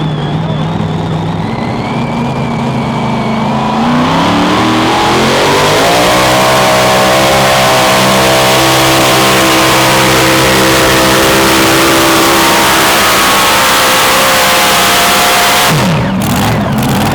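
A 2,050 lb mini rod pulling tractor roars down the track at a Pro Pulling League event in Hillsboro, Wisconsin. The very loud engine climbs in pitch and holds a sustained howl before cutting off near the end.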